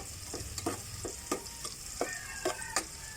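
Ginger frying in a pan, stirred with a utensil that knocks and scrapes the metal in a steady series of sharp taps over a soft background sizzle.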